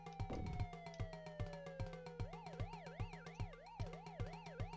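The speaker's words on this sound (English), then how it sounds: "I hear the police siren." A video game police siren on Sega Genesis wails, sweeping down in pitch, then switches to a fast rising-and-falling yelp, over a steady rhythmic engine drone with regular thumping beats.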